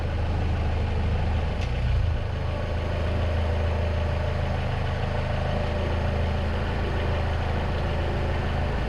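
A vehicle engine runs in gear just after its first start, shuddering without stalling while the emergency brake is on, giving a steady, close, continuous low rumble throughout.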